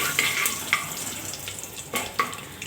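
Cumin, whole spices and curry leaves being stirred in a hot pan, a soft steady sizzle with a few sharp scrapes and clinks of the spoon against the pan.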